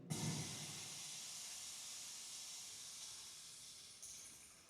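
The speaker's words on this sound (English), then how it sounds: "We've got some meat sizzling." AI-generated sizzle of meat cooking, a steady broadband hiss that holds evenly for several seconds with a slight flare near the end, heard alone at moderate level.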